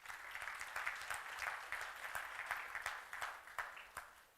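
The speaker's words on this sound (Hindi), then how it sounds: "ताली अच्छे से बजा सकते हो।" An audience at a spiritual teaching camp claps steadily, with a dense, even patter of many hands sustained throughout at moderate distance.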